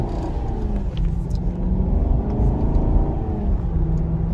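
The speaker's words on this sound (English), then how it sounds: "Listen to that engine." Maserati Quattroporte engine in sport mode during a short drive around the block, a steady loud rumbling drone from inside the car that swells slightly as it accelerates, with no talking over it.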